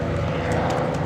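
P-47 fighter plane on final approach to land on a grass runway, a loud, steady droning propeller engine close by for a brief moment.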